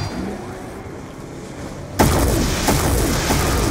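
An explosion in Call of Duty Black Ops 2 Zombies on the Origins map: a sudden loud boom bursts in midway and is followed by sustained rumbling, crackling aftermath.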